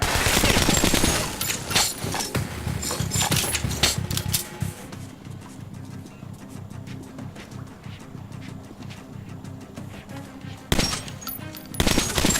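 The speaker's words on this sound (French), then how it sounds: "les balles elles partent un peu n'importe comment" Gunfire in the video game Metro Last Light: loud, rapid bursts of shots open the passage, give way to quieter rumbling ambience, then return with sharp volleys near the end.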